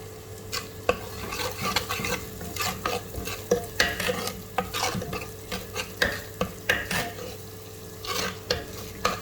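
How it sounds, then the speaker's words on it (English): Green chilies sizzle in hot oil with onions for dhaba-style lentil dal, a steady frying hiss broken by repeated sharp scrapes and taps of a spoon stirring the pan, close and fairly quiet with no talking. "At this point I will add in some green chilies."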